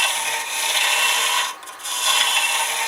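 A Crown Revolution Super Ring woodturning tool peels fibres from spinning wood in a push-pull cut, giving a loud, continuous rasping hiss that briefly dips and then resumes.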